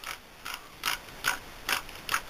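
A lathe's three-jaw chuck screw is turned by hand, giving five or six short ratcheting clicks spaced roughly evenly apart, close and fairly quiet, with no voices.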